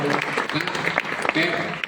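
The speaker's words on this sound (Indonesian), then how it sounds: "Dan beri tepuk tangan sekali lagi" A seminar audience claps briefly for a guest psychology professor, giving a short burst of uneven clapping with voices audible through it.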